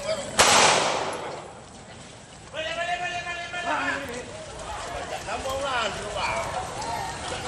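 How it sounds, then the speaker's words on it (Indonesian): Police fire warning gunshots while raiding a cockfight gambling site in a village in Pangkep, South Sulawesi: one sharp loud crack followed by bursts of rough outdoor noise and commotion, with people talking. "Tembakan peringatan diberikan petugas saat menggerebek judi sabung ayam di desa Mandale, Kabupaten Pangkep."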